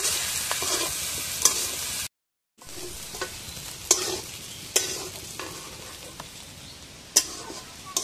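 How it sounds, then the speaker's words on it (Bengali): Kochur loti (taro stolons) fry in a pan with salt and turmeric, a steady close sizzle broken by sharp scrapes and taps of a stirring spoon, with a brief pause in the middle. "কচুরলতিগুলো ভাজা প্রায় হয়ে গেছে"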